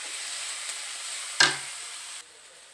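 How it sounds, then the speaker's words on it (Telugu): Onions with a little ginger frying in hot oil give a steady, close sizzle with a soft broadband hiss, broken once by a brief sharp clatter, then the hiss drops slightly quieter toward the end. "ఉల్లిగడ్డ బాగా ఫ్రై అయ్యిద్దామండి, ఫ్రై అయ్యే వరకు ఉడికిద్దాము"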